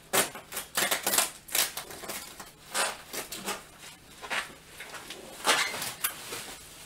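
Plastic wrap and packaging around a new HP Elite 6300 small-form-factor desktop PC being cut open, a series of crisp snips, rips and crackles in irregular bursts, fairly close, with no talking.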